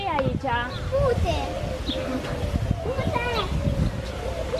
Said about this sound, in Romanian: Porumbei. Porumbițe.